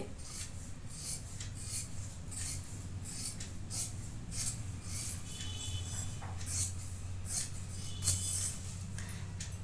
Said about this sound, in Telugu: ఇప్పుడు హ్యాండ్ కట్ చేసుకుందామండి